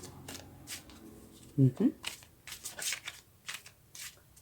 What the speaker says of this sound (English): These cards are not wanting to shuffle very well.